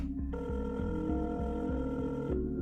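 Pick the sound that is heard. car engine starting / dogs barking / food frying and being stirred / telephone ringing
telephone ringing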